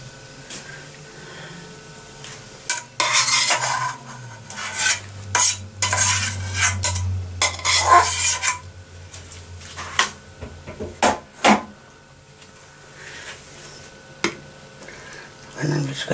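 Carbonara pasta being stirred and tossed in a pan, repeated scraping and clinking strokes with light sizzling, close up, while a person talks intermittently.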